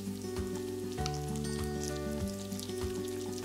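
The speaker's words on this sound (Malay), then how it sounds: "Sekarang masuk pula cili kisar atau cili boh" Ground chili paste fries in a pan with a steady, close sizzle and crackle, under a sustained musical background.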